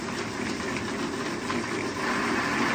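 An electric motor driving a children's bicycle's chain, wheel and crank in a running test, giving a steady, loud whirring and rattling drone that holds throughout with no talk.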